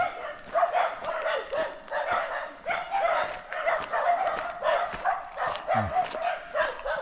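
Several dogs guarding their area bark repeatedly along a Tobago forest trail, a steady run of overlapping barks and yips at moderate distance, with occasional faint voices mixed in.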